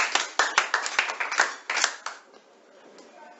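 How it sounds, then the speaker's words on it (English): A classroom of students claps for a classmate who has just explained an AND gate in a logic gates lesson, a short burst of close, uneven clapping that fades after about two seconds into quiet room noise. "Please clap for him"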